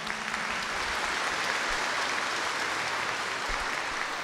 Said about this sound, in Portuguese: Vamos acolher os padres que estão aqui também concelebrando com a salva de palmas.